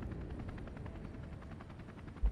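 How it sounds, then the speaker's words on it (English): Steady rumbling helicopter rotor in the survival video game The Highrise, set over a city skyscraper during a monster invasion, droning continuously at moderate distance with no talk. "We got a helicopter over here"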